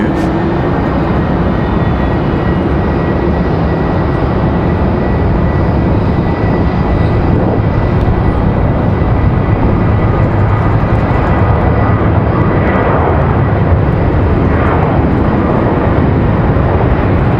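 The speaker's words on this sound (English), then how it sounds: "Sounds like we got an A220 on the move." An Airbus A220 airliner moves at Raleigh-Durham International Airport, its engines giving a loud, steady, broadband roar that holds throughout without pause and without talk.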